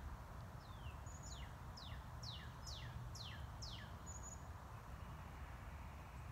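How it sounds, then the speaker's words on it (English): Several birds chirp outdoors in a repeated series of quick descending high notes, moderately close, over a steady low background hum with no talking. "There are still birds chirping around us."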